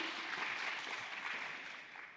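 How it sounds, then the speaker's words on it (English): Applause from a young adults' church retreat congregation for the brothers, fathers and deacons seated at the back, a soft, distant wash of clapping that fades slightly toward the end. "let's give a round of applause for those brothers and fathers and deacons who are sitting in the back"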